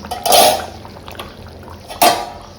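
A lid settles onto a cooking pot on a gas stove with a clatter: two sharp metallic clanks a couple of seconds apart, close by, each ringing briefly. No one speaks.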